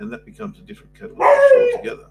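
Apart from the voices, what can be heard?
dog barking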